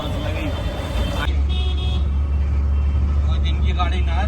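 Auto rickshaw riding through New Delhi traffic toward the railway station, with a steady low engine rumble, passing vehicles and brief car horn toots, while people talk over the road noise.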